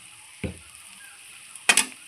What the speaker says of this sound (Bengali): মিষ্টি দিয়ে আবারও খুব সুন্দর করে আমি নাড়াচাড়া করে নিচ্ছি